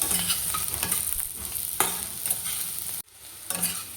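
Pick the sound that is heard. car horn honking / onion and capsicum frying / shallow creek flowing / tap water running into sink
onion and capsicum frying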